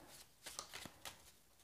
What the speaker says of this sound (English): There are lots of different ones in here, and you'll want to shuffle these up